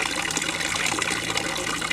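Crimean mountain spring water trickles and splashes in a close, steady, bright rush with no pauses.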